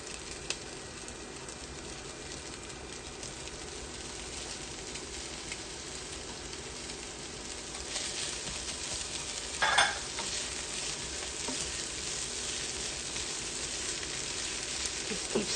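Ham for a Montana breakfast chowder sizzles and fries steadily in a pot, with a continuous crackle and occasional scraping stirs, briefly louder midway, no talking.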